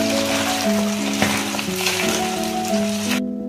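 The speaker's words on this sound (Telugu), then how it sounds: "నూనె వేడెక్కాక ఉడికించి చల్లారబెట్టుకున్న మటన్ ముక్కలని డీప్ ఫ్రై చేసుకోవాలి." Boiled, cooled mutton pieces deep fry in about 200 grams of hot oil, a steady dense sizzle with bubbling crackle throughout that cuts off abruptly near the end, and no talking.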